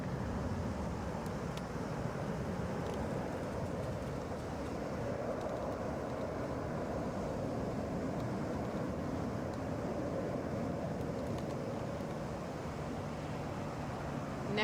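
A Delta Boeing 737 airliner at Atlanta International Airport gives a steady, broadband engine roar that holds at an even level throughout, without clear peaks.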